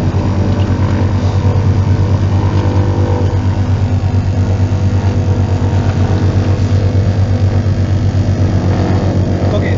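A Partenavia P68C twin-engine aircraft's engine running after start-up, a loud, steady, close droning hum with an even propeller throb and no talking.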